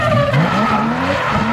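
A Mazda RX-7 FD sports car drifts with continuous loud tire squeal and skidding, its engine pitch sliding upward through the slide, close and unbroken.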